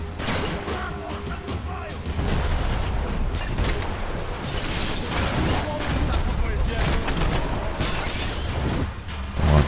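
Dense gunfire and impacts from the video game Max Payne 3 crackle through a police station shootout, loud bursts and booms overlapping with someone talking throughout.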